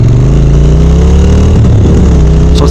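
A Triumph Speed Twin motorcycle engine runs loud and close, its tone rising and dropping as it shifts gears with a quickshifter, with a brief sharp burst near the end.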